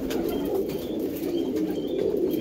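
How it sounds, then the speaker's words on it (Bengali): Close, steady cooing from a pair of Andhra pigeons, a soft rolling throaty drone that carries on unbroken without any voices. "দেখুন পায়রা, কোয়ালিটি খুব সুন্দর হবে"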